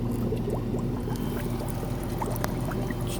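Water pours steadily into a container during a washing machine teardown, a continuous close liquid rush with small bubbling splashes, no voices.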